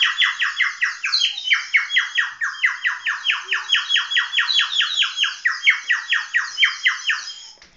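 A magic bird horn toy is blown repeatedly, giving a fast, steady series of high squawking chirps that sound like a bird call, loud and close, with a brief break partway through.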